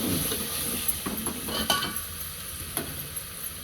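Chicken masala fries in plenty of oil in a pan, giving a steady close sizzle broken by a few light scrapes and stirs of a spoon.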